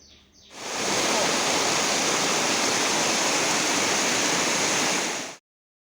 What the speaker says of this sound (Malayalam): ഇതാണ് നമ്മൾ ഫസ്റ്റ് കാണുന്ന വെള്ളച്ചാട്ടത്തിൻ്റെ ഒരു ഭാഗം